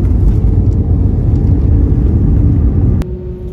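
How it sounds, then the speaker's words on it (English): Loud, deep rumbling roar of an airplane landing, heard from inside the cabin, cut off abruptly by a sharp click and a drop to a quieter hum. "Yeah, we're landing. We're landing now."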